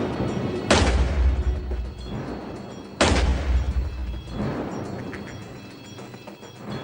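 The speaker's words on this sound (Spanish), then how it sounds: "nuestro experto en armas de fuego usará un cañón más largo que concentra el disparo en un patrón mucho más" Two sharp, loud gunshots from a firearm with a longer barrel that concentrates the shot into a tight pattern, spaced about two seconds apart, each followed by a long rolling echo tail.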